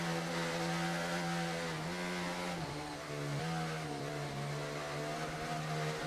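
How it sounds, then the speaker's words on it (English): Racing-car engine from the F1 24 video game at Miami, revs held and cut by traction control, giving a steady high droning buzz with slight dips in pitch, loud and continuous with no talk. "you can hear the traction control limiting the revs"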